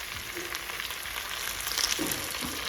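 Chicken with coconut, shallots, ginger and garlic fries in a pan while being stirred, a soft, continuous sizzling hiss with faint scraping touches and no speech.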